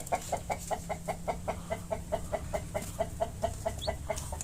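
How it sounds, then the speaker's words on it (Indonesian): Rapid, steady clucking from chickens, a regular series of short calls repeating about every quarter second, fairly close with a low hum underneath. "kita diserang oleh ayam baretrok kita"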